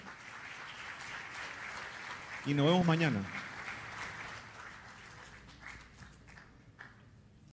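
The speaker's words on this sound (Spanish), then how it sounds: "Un fuerte aplauso para Eduardo de nuevo" A seminar audience at an entrepreneurs' event applauds a speaker, steady clapping from many hands beneath someone speaking briefly at the microphone, then thinning out toward the end.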